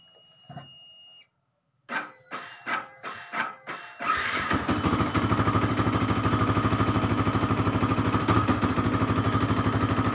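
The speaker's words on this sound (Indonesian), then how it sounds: "kendalanya ketika dinyalakan ada bunyi kasar di bagian sebelah kiri, bagian sentrik" A Yamaha Vixion motorcycle with a rough noise on the left side near the eccentric area: a few quick starter cranks, then the engine catches and settles into a steady, loud, close idle with a rough, rattling undertone.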